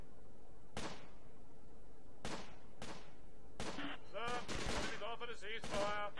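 Gunfire in the World War II strategy game Company of Heroes: a few sharp, isolated shots, then denser overlapping bursts mixed with shouted voices, fairly faint against a constant background hum.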